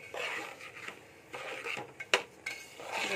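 Semolina roasting slowly in a pan over low heat, stirred with a metal spoon that scrapes and clinks against the pan in uneven strokes, close and without talk.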